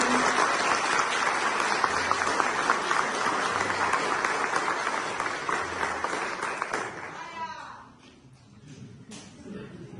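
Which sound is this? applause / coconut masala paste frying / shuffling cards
applause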